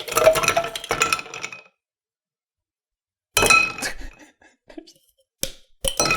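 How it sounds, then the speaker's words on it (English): Ice clinking and rattling in a glass as a rum cocktail is mixed, loud close bursts of clatter separated by silences, then a few short sharp clinks. "We're going to add our ice and mix."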